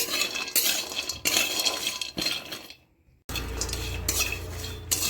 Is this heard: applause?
no